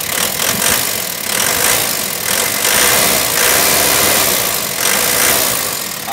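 The turbo diesel engine of a 2009 Thaco Foton truck idles steadily with a dense, rumbling clatter, close and continuous throughout.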